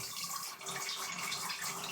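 Water from a knocked-over garden sprinkler splashing and trickling in a steady, hissing wash, close and continuous, no talking.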